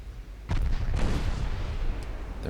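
Battleship broadside gunfire in the naval game Ultimate Admiral Dreadnoughts, a heavy booming burst that rolls into a sustained rumbling roar with a second sharp crack near the end, loud and close.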